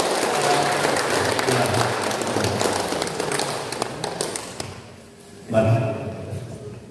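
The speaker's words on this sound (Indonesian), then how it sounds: "Mari kita berikan tepuk tangan untuk" An audience claps in a monastery hall at the opening of a Bible animation event: dense, loud clapping fills about five seconds, fades to quiet, then a brief thump and a short patter follow.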